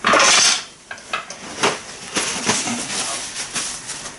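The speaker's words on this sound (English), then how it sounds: "I'm just going to mix it up" Moist grated potato hashbrown mixture mixed in a bowl, with a burst of hissy rustle then irregular soft squelches and scrapes, close and alone.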